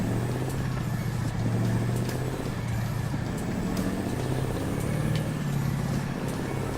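A Mack B 61 truck engine in the video game American Truck Simulator rumbles steadily with low droning tones and a hiss of road noise, loud and continuous throughout.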